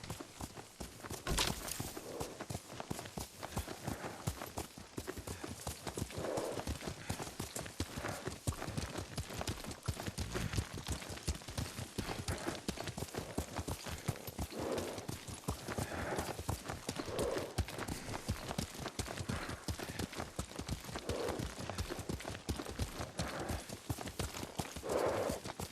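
Horse hooves clip-clop at a steady riding gait in the video game Ghost of Tsushima, rapid rhythmic thuds throughout, with occasional voices and a brief whinny over the hoofbeats.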